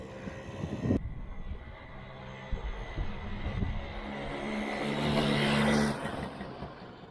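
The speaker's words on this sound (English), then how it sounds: "now we should hear it go into second gear" A Suzuki FZ50 moped engine revs steadily, then climbs in pitch and loudness as it shifts into second gear, with a droning hum that swells near the end before easing off.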